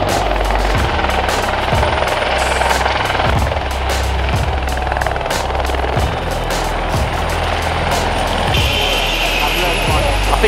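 A helicopter makes a low pass over a supercar gathering, its rotor thumping in a loud, steady rhythm with the engine whine sustained up close throughout.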